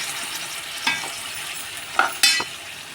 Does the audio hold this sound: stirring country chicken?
yes